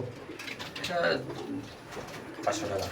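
Pigeons kept for sale coo softly in a few low, rolling phrases, close by, while people talk over and around them.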